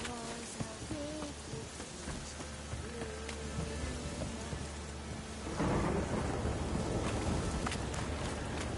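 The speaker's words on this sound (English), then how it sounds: "A storm, damn it." A thunderstorm in the Witcher 3 video game: steady rain patters throughout, then a loud rumble of thunder rolls in about two-thirds through and the downpour grows heavier and closer, with some faint tonal game sounds early on.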